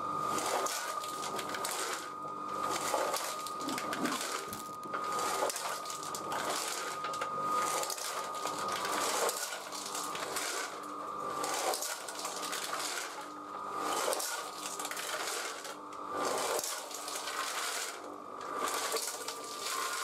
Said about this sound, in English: ready to start it up and just leave it to spin for a while